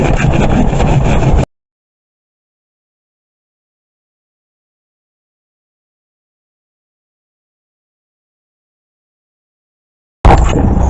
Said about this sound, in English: So I'm going to take my root pruning saw and get my way around.